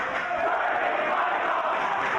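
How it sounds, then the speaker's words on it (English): A wrestling arena crowd chants in unison, loud and sustained, a dense roar of many voices filling a big hall. "That's a great chant."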